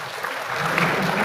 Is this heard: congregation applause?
yes